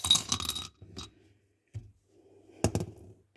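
Small dice, one pink and one purple, tossed and clattering to a stop on a tabletop, a short burst of quick bouncing clicks followed by a later rattle, heard close with quiet gaps between.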